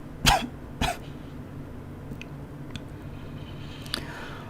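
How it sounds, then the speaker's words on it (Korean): A man coughs twice in quick succession, close and fairly loud, in an intimate ASMR-style setting, followed by a few faint soft noises and quiet clicks. "그렇게 기침도 나네."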